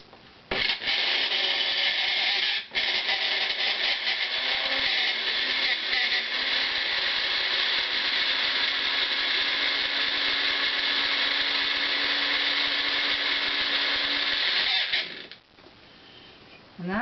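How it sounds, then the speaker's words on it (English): A personal blender whirs tarragon salad dressing in one long, loud, steady grinding run, close up, starting abruptly with a brief dip early on and cutting off near the end. "And then just blend this up in your personal blender."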